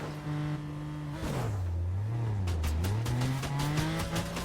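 A car in Fortnite boosts, its engine tone dropping and then climbing steadily again as it speeds up, loud and continuous with faint tire noise and no speech.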